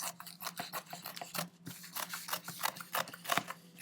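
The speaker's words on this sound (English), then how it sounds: "And then we can trim that seam allowance." Scissors trimming a fabric seam allowance on a quilt during sewing, a steady run of close, crisp snips and fabric rustles over several seconds with no talk.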